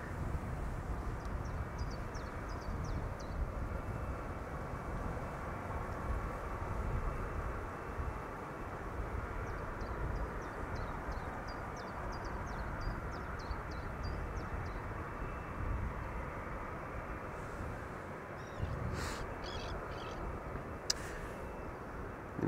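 A Transavia airliner in Peter Pan Vacation Club special livery arrives from Faro, heard as a faint, steady, distant jet rumble with no talking.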